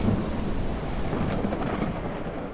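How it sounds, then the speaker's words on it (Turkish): Thunderstorm in the video game Ranch Simulator: a dense, continuous roar of rain and low rumbling thunder that fills the whole moment at a steady, fairly loud level. "Valla çok sağlam fırtına çıktı."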